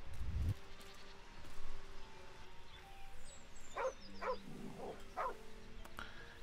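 Dog barking in a fantasy video game, a few short barks in the middle of the stretch over quiet ambient game sound and background music.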